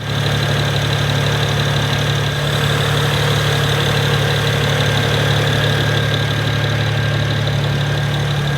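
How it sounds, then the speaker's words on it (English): A BMW 1M Coupe engine idles close by after a cold start, a continuous low rumble with a constant hum and no voices. "Here I'll get a little footage of the engine running."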